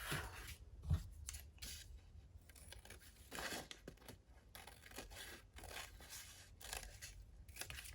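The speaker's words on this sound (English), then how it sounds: "I'm just going to fold that like that and cut it off." Scissors cut through a folded paper tag for a boho-style papercraft, with a series of close, crisp snipping strokes and paper rustling over several seconds, with no talk.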